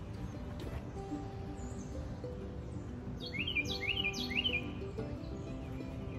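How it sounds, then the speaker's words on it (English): Morning birds chirp outdoors in Lancaster, Pennsylvania, a cluster of quick bright tweets arriving midway over a quiet, low background hum, fairly faint and somewhat distant, with no voices. "the birds are chirping"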